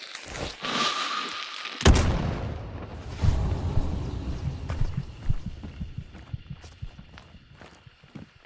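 A sharp, loud gunshot in the video game Hunt: Showdown, followed by a booming rumble and a run of soft footstep-like thuds and clicks that fade away, with no talking.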